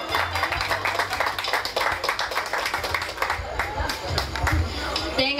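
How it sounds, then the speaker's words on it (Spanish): Crowd applause at a village carnival festival in El Salvador, a burst of scattered clapping and cheering with chatter and low background hum, moderately near. "a señorita entrante Alba Guadalupe González, por quien pido un fuerte aplauso"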